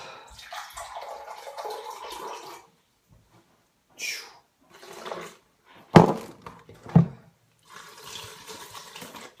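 Water pours from a tap in intermittent bursts, splashing into a blender along with rice milk during pre-workout drink preparation, with short gaps and a couple of sharp knocks in between.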